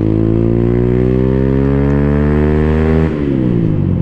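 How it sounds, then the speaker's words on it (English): A 2024 Freedom Fighter 200 EFI motorcycle with a heavy rider revs hard close by, its engine pitch climbing steadily toward redline, then dropping sharply after about three seconds at a gear change before rising again. "It's extremely easy to redline this bike, very easy to redline this bike, because it just wants to rip."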